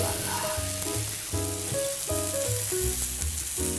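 Eggs and sausage frying on a griddle for breakfast, a steady loud sizzle with crackling throughout, under a bed of background music.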